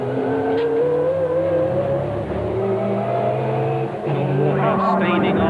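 Touring race cars from the 1989 British Touring Car Championship at Silverstone rev hard near Copse Corner with loud, sustained engine notes rising and shifting. A commentator talks over the engines.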